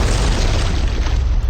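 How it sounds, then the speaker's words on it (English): A huge explosion from a German submarine's single torpedo striking the liner Lusitania in 1915, heard as a deep, sustained low rumbling boom that fills the whole moment, loud and continuous with no voices. "the German submarine U-20 fired a single torpedo at her. There was a huge explosion"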